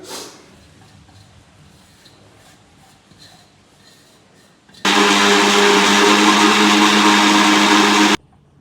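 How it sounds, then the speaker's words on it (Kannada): A mixer grinder grinding kumkum ingredients kicks on abruptly and grinds loudly and steadily for a few seconds, then cuts off, after a quiet stretch of faint room noise. "ಇವಾಗ ನಾನು ಇದ್ರೆ ಮಿಕ್ಸಿಗೆ ಹಾಕ್ತೀನಿ"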